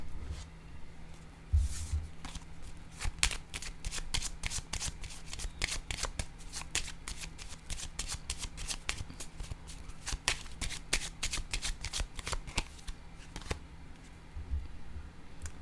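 Playing cards are shuffled and laid down on a table during a board game, a quiet run of crisp riffling clicks and taps close by with little else around.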